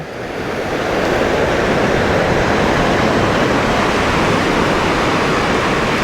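Steady, loud surf from the sea at Kanyakumari, a continuous broad roar of breaking waves that swells in over the first second and then holds evenly, with no voices.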